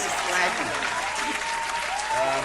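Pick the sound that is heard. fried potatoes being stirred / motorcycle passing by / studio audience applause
studio audience applause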